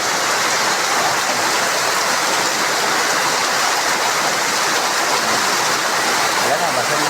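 Rain falling on an evening in Kidapawan, a steady, dense downpour with an even hiss that holds at constant loudness throughout, with no pauses or breaks.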